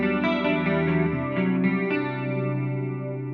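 An electric guitar runs through a chorus modulation effect via an N-Audio 8x7 amp switcher into a tube amp expander, giving a sustained, shimmering, wavering tone with a few note changes, steady and loud, alone.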